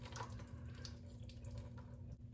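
Tap water runs steadily over canned red kidney beans in a strainer, a soft, continuous splashing rinse at low level with a faint hum beneath it.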